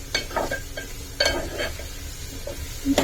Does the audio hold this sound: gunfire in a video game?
no